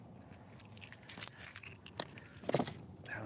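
Keys jangle in bursts as they are handled close by, bright metallic clinks coming and going against a quiet background.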